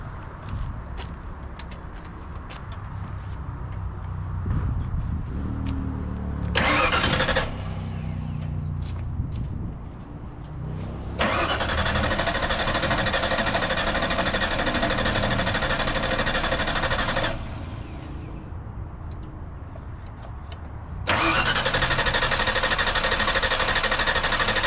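Barn-find Fox body Mustang with its fuel tank hanging loose, being cranked. Repeated bursts of engine noise and whirring with pauses between, loud and close, and the engine seems to catch briefly. No talk.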